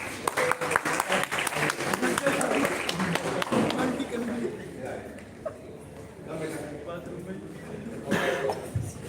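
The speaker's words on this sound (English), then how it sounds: "And applause for them, please." Audience members at a personality development session at CPJ College, Delhi clap in a short burst that fades within a few seconds, followed by murmuring voices, coughs and scattered talk in the room.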